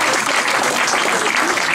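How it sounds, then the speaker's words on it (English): Steady, dense applause from a concert crowd at Le Marquee, greeting a trumpet player before a jazz cover, sustained and even without pause. "On peut applaudir très fort, s'il vous plaît"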